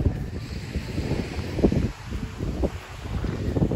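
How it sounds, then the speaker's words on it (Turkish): Gusty wind buffets the microphone in rough, rumbling bursts on a beach at Datça, Turkey, with a faint hiss of surf in the background. "Sahil biraz daha rüzgarlı oluyor, daha serin oluyor."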